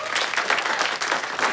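A studio audience claps loudly and steadily for a brief burst, a dense wash of applause with no voices over it.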